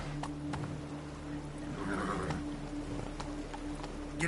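Horse hooves from The Witcher 3: Blood and Wine clip-clop in a steady gallop, close and fairly loud, with a brief whinny-like swell midway over a low ambient hum.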